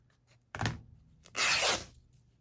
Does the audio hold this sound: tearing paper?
yes